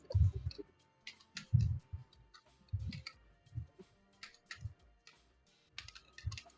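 Someone types on a computer keyboard with irregular bursts of close, crisp key clicks and short pauses between words.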